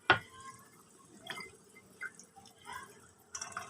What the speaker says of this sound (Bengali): এবারে আমি এর মধ্যে দিয়ে দেবো এই যে ভেজানো ছোলাগুলো